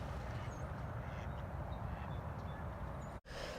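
Ducks calling at Arizona birding grounds, brief scattered quacks faint and mid-distance over a steady low outdoor rumble, with a short dropout near the end.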